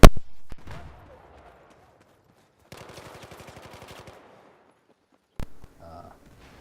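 Bursts of AK-12 automatic rifle fire in the video game Battlefield 4, a loud opening burst followed by a steady rattling volley and a short final shot, with sparse gaps between.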